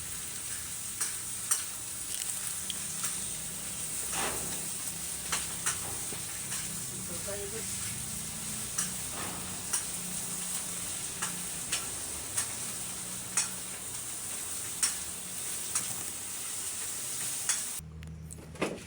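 Banana blossom (puso ng saging) frying in a pan gives a steady, fairly loud sizzle with repeated light clicks and stirring ticks throughout, and faint background talk.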